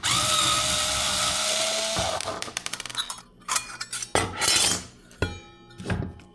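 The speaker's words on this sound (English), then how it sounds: "unscrew the base here." Unscrewing the base of a battery-operated wall sconce lamp produces a brief whirring scrape, followed by a scatter of close, sharp clinks, taps and rattles of small metal and plastic parts being handled.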